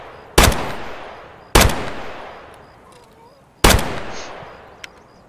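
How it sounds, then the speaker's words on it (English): Three loud, close gunshots in a shooter video game, each a sharp crack followed by a long decaying echo, spaced unevenly over a few seconds with a faint click between them. "I'll shoot him in the legs."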